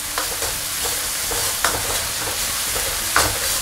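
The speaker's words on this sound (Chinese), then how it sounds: "小火把香辣酱、干辣椒和这个蒜、姜给它炒香。" Chili paste, dried chilies, garlic and ginger stir-fried in a wok over low heat: a steady soft sizzle with periodic scraping strokes of the spatula, moderately close, no voices.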